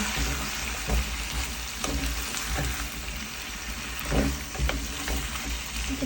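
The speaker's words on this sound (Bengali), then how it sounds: "এখন মুরগির মাংসটাও দিয়ে দিচ্ছি।" Chicken pieces with potatoes and spices sizzle loudly in a pan, a continuous frying hiss broken by periodic scraping thumps of stirring, with no talking.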